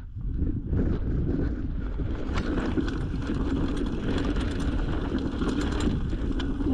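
Mountain bike riding over a rough, dry, rocky woodland trail in Scotland on an evening ride, with steady rumbling tyre noise, rattling and wind buffeting close to the microphone throughout, no talking.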